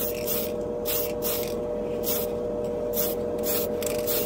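A Tamiya spray can of clear paint hisses in repeated bursts, each lasting about half a second with short pauses between, over a steady low hum.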